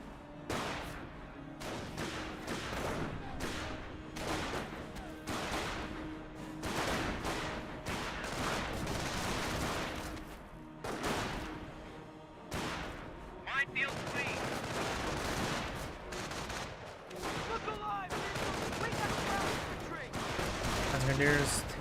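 Rapid, dense gunfire and machine-gun bursts in the Company of Heroes 1 World War II strategy game, with repeated sharp cracks and rattles in uneven clusters and a voice talking over parts of it.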